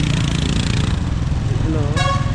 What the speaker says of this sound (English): People on motorbike,